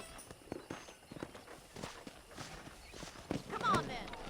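Rhythmic hoof clip-clops of a horse at a walk in Red Dead Redemption, steady and fairly close, with game ambient sound and a brief bright chime near the end.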